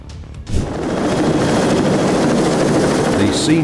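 A Sea Knight helicopter in flight makes a loud, steady rotor and engine roar. The roar swells in after a brief quiet start and stays dense throughout.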